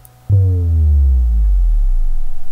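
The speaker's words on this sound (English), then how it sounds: "what the bass drop sound effect sounds like" A bass drop effect built from a synthesized sine chirp, a sudden loud low tone that sweeps steadily downward over about two seconds and settles into a deep rumbling throb.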